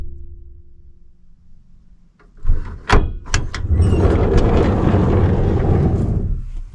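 The door of a 1984 Chevy van, newly fitted with paneling, slides and slams shut with a couple of sharp close knocks followed by a sustained rumbling rattle.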